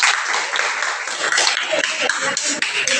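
A classroom group claps together after a discussion session, dense steady applause close and loud throughout, with some shuffling mixed in.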